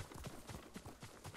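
Horse hooves clip-clopping at a steady trot in the video game Ghost of Tsushima, a quick regular rhythm of soft thuds, fairly faint and brief.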